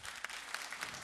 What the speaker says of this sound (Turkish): Alkışlarımız durmasın Gülseven için